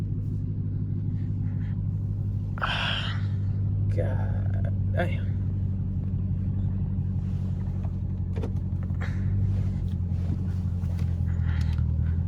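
A loud Dodge Hellcat engine rumbles steadily as it is driven hard on wet roads, a deep continuous drone with a voice talking briefly over it.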